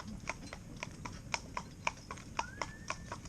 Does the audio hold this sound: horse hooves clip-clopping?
yes